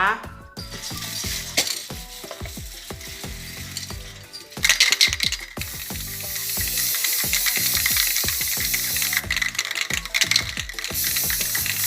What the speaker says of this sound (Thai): เดี๋ยวเราก็จะไปพ่นสีสเปรย์นะคะเพื่อความสวยงามนะคะ